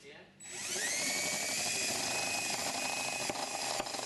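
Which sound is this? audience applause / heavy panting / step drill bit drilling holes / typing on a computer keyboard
step drill bit drilling holes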